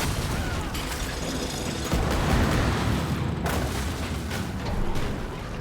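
Continuous loud video game combat, dense bursts of gunfire and booming explosions packed over one another with no gaps, growing heavier about midway through.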